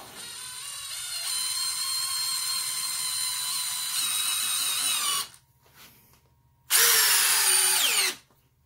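A DeWalt cordless drill drives a screw with a steady high whine for about five seconds, falls silent briefly, then gives one more short loud burst. The sound is close, with no talking.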